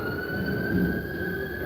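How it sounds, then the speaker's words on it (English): A siren wails steadily in the distance over low traffic rumble, holding a sustained tone throughout. "sirens and stuff today"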